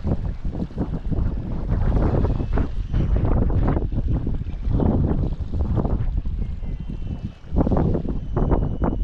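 Strong sea wind buffets a fishing boat offshore, a continuous rough roar with rising and falling gusts close to the microphone and no voices.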